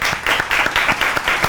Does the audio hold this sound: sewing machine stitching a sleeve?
no